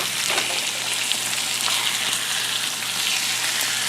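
Ground beef, potatoes and onions fry together in a pan, giving a steady, close, dense sizzle that holds evenly throughout with no voices.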